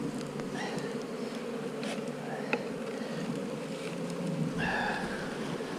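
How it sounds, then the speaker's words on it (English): Honeybees buzz around an open hive with a frame full of sealed brood. Their drone is dense and continuous at close range, with individual bees whining past now and then, and there is no talking. "plus we've got all these bees here"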